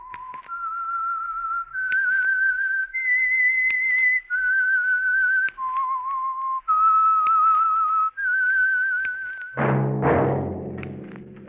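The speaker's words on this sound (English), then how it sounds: "That whistle is your signal for the Signal Oil Program, The Whistler." A solo whistled theme tune for a radio mystery show, a string of clear, sustained, slightly wavering notes in a slow eerie melody, ending as a loud orchestral chord bursts in.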